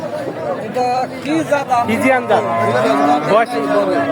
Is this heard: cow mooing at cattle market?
yes